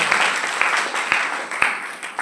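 A church congregation claps along in a steady rhythm, sharp hand claps recurring about every half second over a broad wash of group applause, fairly close and loud with no voices on top.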